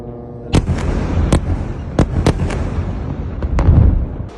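Explosions from air strikes on Gaza sound as a series of sharp booms and cracks, about eight irregular blasts over a rumbling background, loud and close.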